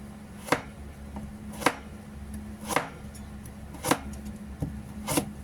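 A knife thinly slices carrot on a cutting board in a home kitchen, with five sharp, evenly spaced chops about a second apart, close and clear over a quiet background.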